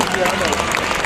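Large audience applauding at a symphony concert, a dense steady wash of clapping filling the space throughout, loud and continuous.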